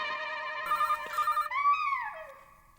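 A telephone rings up close with a bright electronic ringtone, warbling tones followed by a sliding chime that fades out, with no talk over it.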